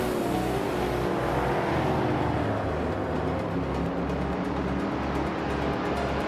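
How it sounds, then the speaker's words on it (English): A turbocharged 1973 BMW 2002 Turbo race car roars in a racing video game, a loud, continuous engine drone with steady pitch and no gaps or speech. "Double is driving a 1973 BMW 2002 Turbo, which is known for its lightweight and turbocharged power"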